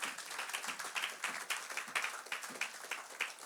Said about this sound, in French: Acclamons très fort la parole de Dieu.